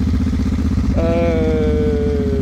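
Heavier new motorcycle held on its front brake for a hill start, engine chugging steadily at idle and then revving up into a rising, sustained tone, loud and close.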